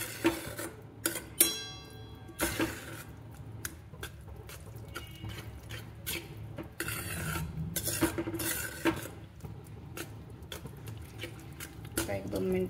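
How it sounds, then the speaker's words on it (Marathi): A spoon stirs mushroom masala in a pan on low flame, with repeated clinks and scrapes against the metal, close and steady. A voice talks over the stirring. "आता 1-2 मिनिटं आपण कमी गॅसवरच हलवणार आहे मसाला."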